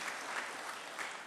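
A church congregation applauds during a Sunday service, a soft, even patter of many hands clapping at a distance, brief and without voices.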